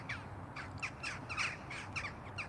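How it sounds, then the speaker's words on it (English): Several crows caw in quick, scattered bursts, moderately distant, with no talking. "as the crows go overhead. You won't be able to see them, but you can hear them."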